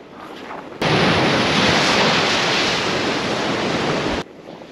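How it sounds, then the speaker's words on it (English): Strong wind and crashing waves during a Lake Erie storm that is washing out a lakeside road, a sudden loud burst of roaring gusts and surf that holds for about three seconds, then drops back. "those winds just picked up again."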